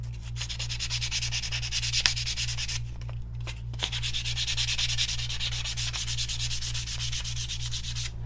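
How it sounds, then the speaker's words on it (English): Close, steady sanding strokes rub across a piece being worked for a patina effect, a continuous gritty scratching with slight rhythmic pulses over a constant low hum. "Now I do want to sand going in one direction."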